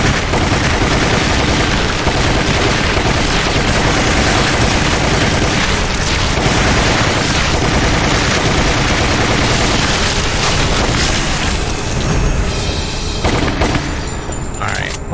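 Loud, relentless gunfire and booming explosions from the Wii game Resident Evil: The Umbrella Chronicles, with rapid overlapping shots forming a dense, continuous barrage throughout.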